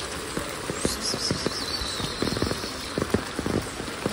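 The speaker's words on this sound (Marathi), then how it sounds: "असा पाऊस आहे ना, कालपासून लागतोच आहे आम्हाला" Rain falls in a village in the Konkan region as a soft, steady wash, with scattered drips and patters standing out close by.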